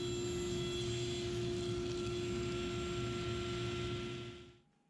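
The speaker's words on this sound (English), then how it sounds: "I used the sled to square up the cutting board and cut it to final dimension." A table saw cutting a wooden cutting board on a crosscut sled: a loud, steady whine with a constant tone and a grinding undertone, then the sound spins down and fades at the end.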